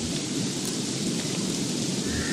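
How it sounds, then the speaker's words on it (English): Steady, loud rain pours throughout a thunderstorm in the video game Don't Starve, with thunder rumbling underneath and no other sounds. "too much rain"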